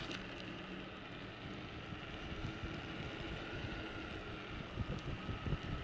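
Steady breeze rushing across the microphone in a shaded coastal park along a seaside trail near Ramsgate, a continuous broadband wash with gentle gusts swelling toward the end, no voices.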